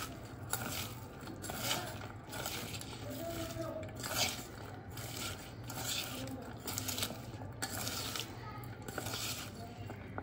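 Sliced onions being mixed by hand with masala, turmeric and salt in a bowl for onion pakoda, giving a steady soft scraping and squelching rustle, fairly faint and continuous with no talking.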